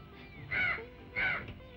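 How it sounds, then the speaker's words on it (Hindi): Two loud, harsh crow caws, evenly spaced about half a second apart, close by against a faint background hum. "तू जानता है कौवा क्यों बोल रहा है?"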